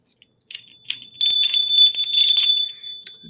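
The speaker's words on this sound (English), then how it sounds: "And I'm going to ring my bell." A small hand bell rings as a bright, shimmering jingle that builds after a few light taps, sustained for over a second and fading out, close and fairly loud with no talk.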